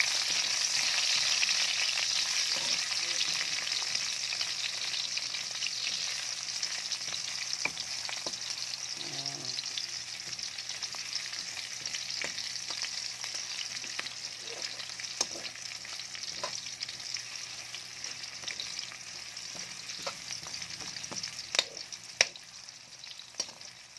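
Onion and garlic sautéing in a pan, a long even sizzling hiss with occasional soft clicks and scrapes from stirring, steady and moderately quiet with no voices.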